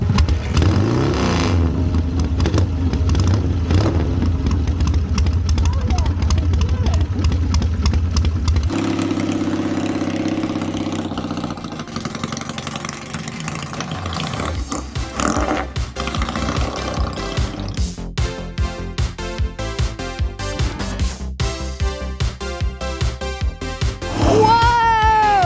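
A 73-year-old chopper motorcycle is kick-started and left idling, its engine chugging in a loud, rapid, uneven pulse close by, with the rhythm shifting and stuttering as the revs settle and rise again.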